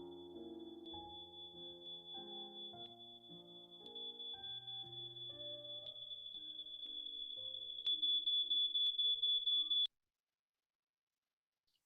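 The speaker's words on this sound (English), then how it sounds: "the fire alarm beeping" A fire alarm beeps in a simulated indoor scene alongside piano notes, a steady high tone growing louder before turning into rapid repeated beeps that cut off abruptly.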